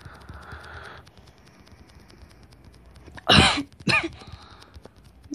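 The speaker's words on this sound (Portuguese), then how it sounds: "tô tossindo" Person coughing indoors during a heavy rainstorm: two sharp, loud, close coughs in quick succession over faint steady background patter, with a soft rustle earlier.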